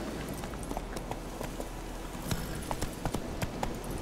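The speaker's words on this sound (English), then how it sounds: "Luckily, Geralt can always count on his horse, Roach, to help him in his travels." Horse hooves in The Witcher 3: a steady clip-clop of many sharp, close hoof strikes in a quick, running rhythm over a background hum, with no talking.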